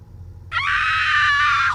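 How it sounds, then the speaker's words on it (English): A video game character in Signalis lets out a single loud, sustained scream that begins abruptly and holds steady for over a second before cutting off, with a low background drone underneath. "Scream."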